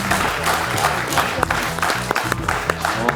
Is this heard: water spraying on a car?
no